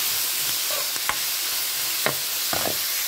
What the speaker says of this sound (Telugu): గోల్డెన్ బ్రౌన్ కలర్ వచ్చేదాకా వేయించుకోవాలి